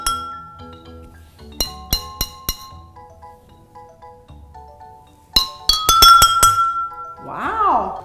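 Glasses filled with different amounts of water are tapped one at a time, giving clear ringing tones at different pitches, first in a short spaced run, then in a quicker cluster, followed by a sustained ringing and a brief wavering tone.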